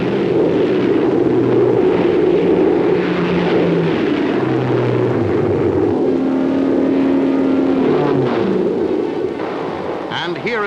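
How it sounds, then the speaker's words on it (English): Lockheed Shooting Star jets pass over an airfield with a loud, continuous roar and shifting engine tones throughout. "The noise is deafening as the sleek jets flash over the field."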